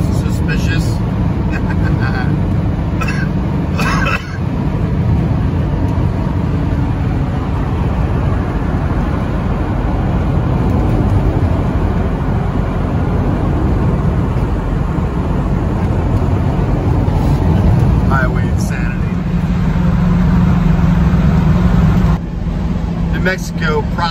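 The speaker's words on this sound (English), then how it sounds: "cruising at an average 70 miles an hour" Steady road roar of a car cruising on a smooth highway at about 70 mph, a constant loud rumble filling the whole stretch with occasional brief bumps and swells.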